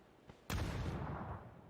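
A grenade bursts in a PUBG esports match with a sudden loud blast, preceded by a faint pop, then a long rumbling tail that slowly fades.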